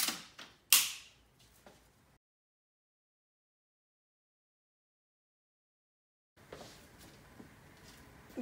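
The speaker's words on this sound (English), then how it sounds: "The handlebar is adjustable in much the same way." A Bugaboo Fox stroller handlebar is adjusted with a few sharp mechanical clicks and a creak close by, then a long silence before faint handling noise returns.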